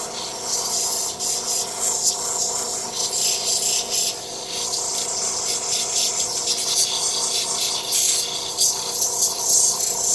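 Intarsia wood piece smoothed on a well-worn 260 grit sanding wheel, a steady close rubbing rasp with faint motor hum underneath, continuous and even throughout with no talking.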